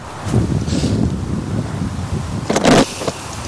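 Wind gusts across an outdoor fishing spot, buffeting the microphone with a continuous low rumble and rustle, rising into a louder blast near the end.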